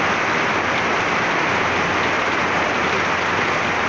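Heavy typhoon rain in Pasig pours down in a dense, even roar, loud and constant throughout, with no voices.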